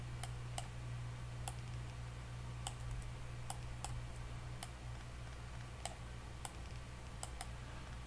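A computer mouse clicks while someone plays Factorio, giving sharp, irregular single clicks, sometimes in quick pairs, over a low steady hum with no voices.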